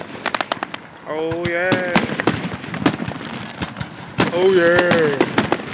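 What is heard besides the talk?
fireworks exploding in the sky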